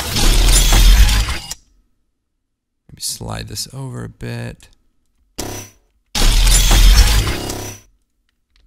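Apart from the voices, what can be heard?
metal blade category sound effects from MotionPulse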